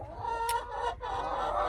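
Molting chickens cluck nearby in short, uneven bursts, a few soft clucks and calls with no talking.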